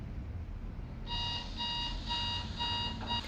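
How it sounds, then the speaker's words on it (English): Alarm clock in the Paranormal Activity film starts after a second of quiet room hum, then rings in rapid repeated electronic beep bursts, fairly loud and close. "Who sets an alarm for 6:14?"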